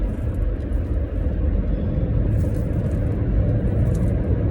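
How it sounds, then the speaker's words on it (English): A car cruises along the 95 highway, with steady, loud low road rumble and engine noise filling the cabin without a break, and no talk. "we are down to the 95 in the car."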